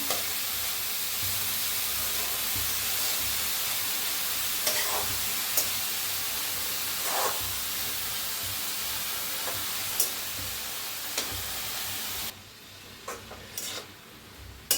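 Washed dill greens fry and are stirred in an uncovered pan, making a continuous loud sizzle with scraping stirs and occasional sharp clicks; the sizzle drops sharply near the end.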